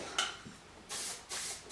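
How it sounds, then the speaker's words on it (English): Hairspray misted onto hair being styled into twists, heard as a short close puff followed by two longer, soft, breathy sprays, quiet and with no talk. "I'm gonna actually take my hairspray and just spray a little bit"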